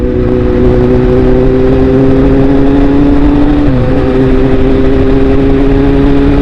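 Motorcycles, including a Kawasaki Z800, Z900 and Honda CBR650F, ride out from a petrol station on the Phrao–Chiang Mai road. A loud, continuous close-up engine drone holds a steady pitch and dips briefly midway as wind roars throughout.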